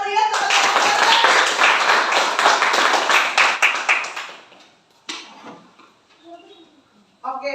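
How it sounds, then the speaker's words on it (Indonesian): Loud, dense applause from a classroom of students for a group that just presented, sustained for about four seconds before cutting off, followed by a few faint scattered taps and a brief burst of noise. "Kita memberikan tepuk tangan yang meriah kepada kelompok orientasi."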